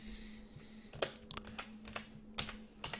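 Someone types an address on a computer keyboard: soft, close key clicks in short irregular bursts over a quiet steady hum.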